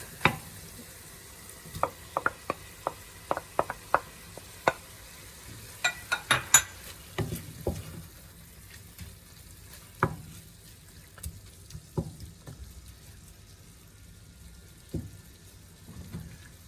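Mushrooms and ground pork being stirred in a pan for Kapampangan-style baked spaghetti, with scattered scrapes and clacks of the utensil over a faint sizzle, busy at first and sparser toward the end.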